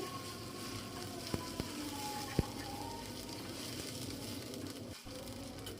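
Ginger garlic paste sizzles and fries with onions in a pan, giving a steady hiss with a few sharp pops and spatters across the whole stretch, moderately quiet.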